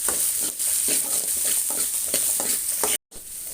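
Shallots and garlic sautéing in a pan for Tamil fish curry, with a steady close sizzle and repeated scraping stirs of a spoon against the pan, briefly cutting out near the end.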